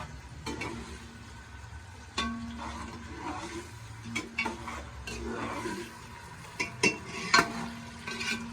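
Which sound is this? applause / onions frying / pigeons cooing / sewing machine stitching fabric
onions frying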